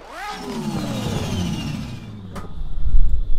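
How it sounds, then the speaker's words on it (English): A Nissan S15 drift car fitted with a 2JZ engine starts up close by, its idle rising into a revving, whooshing turbo note that swells louder toward the end. "It is just massive amounts of turbo noise."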